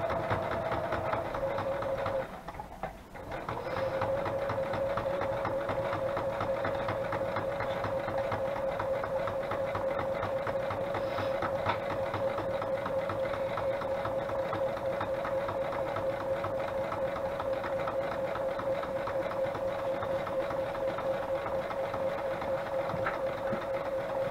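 A sewing machine runs steadily, stitching along the collaged edges of paper pages, its motor holding a continuous hum after a brief pause near the start, with no talking over it.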